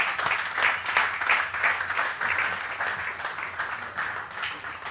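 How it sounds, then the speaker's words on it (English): An audience applauds Asian Games medalist Sanjeev Rajput, a dense, steady crowd of clapping that keeps up at even loudness through the whole stretch. "a big round of applause"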